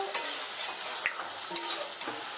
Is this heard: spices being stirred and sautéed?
yes